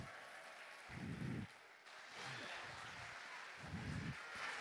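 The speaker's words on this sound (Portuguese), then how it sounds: "Uma salva de palmas para a nossa banda" Crowd applause for a band at a live hypnosis stage show, a steady wash of clapping from a moderately distant audience with low rumbling bursts of noise mixed in.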